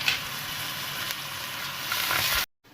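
Garlic and ginger paste fry in hot oil with chopped green chilies, a dense steady sizzle close by that swells briefly before cutting off abruptly.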